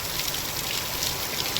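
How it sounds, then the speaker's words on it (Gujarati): Heavy rain pours down in a steady, dense hiss of countless drops hitting surfaces, continuous and unbroken with no voices. "જોરદાર આવી ગયો વરસાદ એમ જો અત્યારે ચાલુ જ છે ખરેખર"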